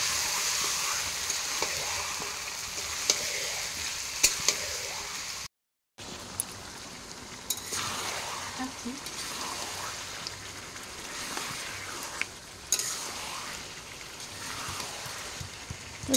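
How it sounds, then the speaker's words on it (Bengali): Duck meat sizzles steadily in a hot pan as it is fried and braised, a continuous close crackle with occasional stirring clicks, briefly cut by a moment of silence. "তো দেখো এদিকে মাংসটা চাপিয়েছি, কষানো হচ্ছে"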